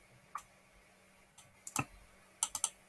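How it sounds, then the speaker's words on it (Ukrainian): A computer mouse gives several crisp, close clicks, a lone click followed by quick pairs and a rapid double-click near the end, in a quiet room. "Подвійний клік."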